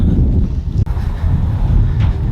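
Wind gusts through an abandoned velodrome, a heavy, rumbling roar that buffets the microphone up close, with a brief dip partway through.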